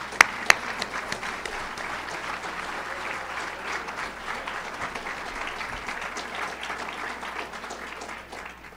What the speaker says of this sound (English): please help me give a warm birthday applause from all of us at Daemen